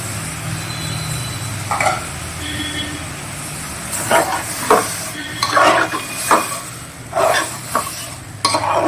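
Mutton being stir-fried with a paste of ginger, garlic, and dried and green chilies in a pot, steady sizzling under repeated scraping stirs and spoon knocks against the pan.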